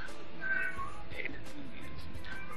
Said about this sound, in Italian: salutiamo il gatto